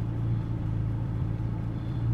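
A McLaren MP4-12C engine idles close by, a steady, loud, low rumble with even pulsing and no voices over it.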